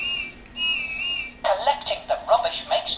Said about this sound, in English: I have a funny little whistle.